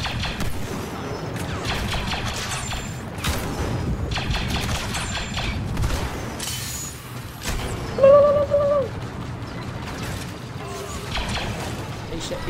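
Bursts of blaster-style gunfire in the Star Wars Battlefront II video game, repeated sharp shots in clusters with a few booms, mixed with game sounds and a voice.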